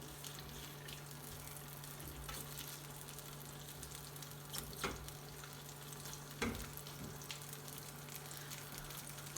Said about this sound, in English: So here's my pre-cooked lamb, just one portion. Let me get that on there.